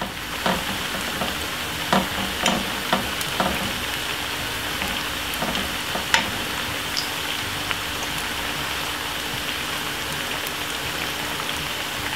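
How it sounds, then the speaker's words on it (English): Steady, dense sizzling of plantain slices frying in hot oil, with scattered pops and crackles throughout and no voices. "you keep frying them like this"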